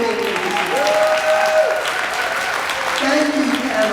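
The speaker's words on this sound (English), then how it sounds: "I'd like you to give them a big round of applause just for being here." A town hall crowd in a high school claps in a steady, even round of applause, with a voice faintly audible over the clapping.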